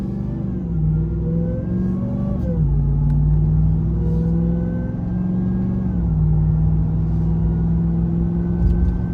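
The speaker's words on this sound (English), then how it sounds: "inside the truck, just normal driving with the AWE exhaust." Steady, loud engine drone inside a truck fitted with an AWE 0FG exhaust during normal driving, the pitch rising and then stepping down at a couple of gear changes, with no talking.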